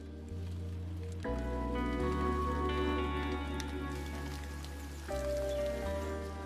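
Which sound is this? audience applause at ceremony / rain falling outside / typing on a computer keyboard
rain falling outside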